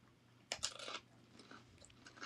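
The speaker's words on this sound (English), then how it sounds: "I love the crunch" Spicy snack chips being bitten and crunched, a burst of close, loud crunching chews in the first half followed by softer, scattered chewing crunches.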